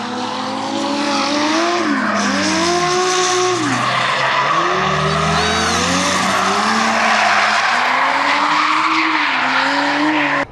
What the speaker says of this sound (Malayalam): ഈ റേസിന് സ്റ്റോക്ക് വണ്ടിയാണ്